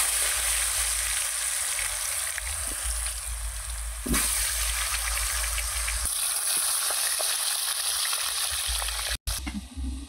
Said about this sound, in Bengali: আলুটা লাল লাল হয়ে ভাজা হয়ে গেছে